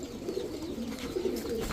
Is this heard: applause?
no